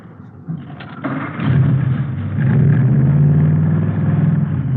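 A salvage-built hot rod with Mallory ignition, milled heads, twin Wakefields and 120 horsepower cranks and catches, then settles into a loud, steady low engine roar that swells as it revs, close by and with no talk.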